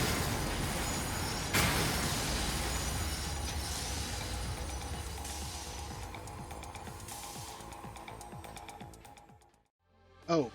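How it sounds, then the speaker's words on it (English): A train in the factory-building game Satisfactory rumbles past with heavy rolling and rattling that slowly fades out. A short, sharp burst follows right at the end. "Let's go run into this train."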